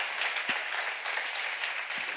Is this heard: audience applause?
yes